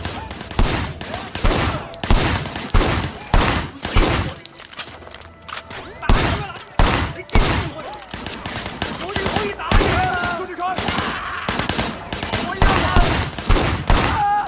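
Gunfire rattles through a shootout in Sleeping Dogs, with rapid repeated bursts and single loud shots in irregular clusters, mixed with impacts and game sounds throughout.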